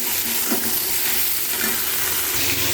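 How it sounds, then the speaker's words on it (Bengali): Rui fish sizzles as it fries in a pan, a dense, even crackle heard close up and with no voices. "এই মাছটা ভাজা হয়ে গেছে, এগুলো তুলে নিই"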